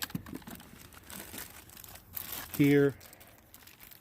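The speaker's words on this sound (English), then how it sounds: "I have it in a sealed plastic bag for emergency" Plastic crinkles and rustles softly in short bursts, with a brief spoken word and a sharp loud beep near the end.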